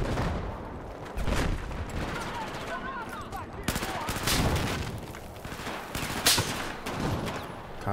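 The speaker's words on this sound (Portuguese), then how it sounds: "tá muito tiro aqui" Battlefield 4 video game gunfire, with rapid automatic bursts and scattered shots crackling throughout, some near and loud, others distant, while a player talks occasionally.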